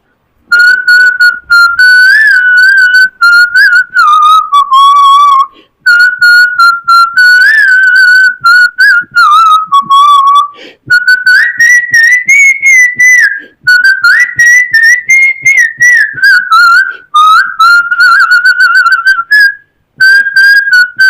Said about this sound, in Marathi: मी शिट्टीतलं गाणं म्हणून दाखवणार